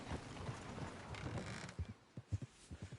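Horse hooves clip-clopping in Red Dead Redemption 2, a handful of soft thuds near the end following a muffled rumble, faint and fairly close, with no talking over them.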